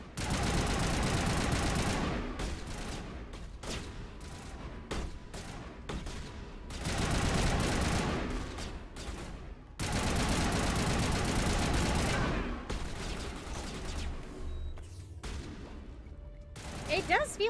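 Assault rifle fire in the video game Mass Effect comes in long loud bursts separated by short pauses, with quieter gaps and faint clatter toward the end.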